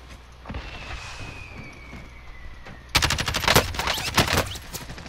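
Gunfire in a battle royale video game: quiet at first, then a loud burst of rapid automatic shots breaks in and continues in bursts through the rest, close and sharp.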